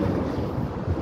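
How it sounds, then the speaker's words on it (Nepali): Strong, cold wind blowing outdoors in Portugal, a continuous low roaring rush with buffeting on the microphone, steady and close with no voices. "एकदम चिसो हावा चलिरहेको छ क्या"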